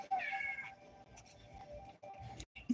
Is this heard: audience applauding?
no